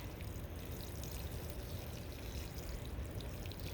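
Steady pouring water while watering garden plants, a soft continuous splash and trickle with no voices, even in level throughout.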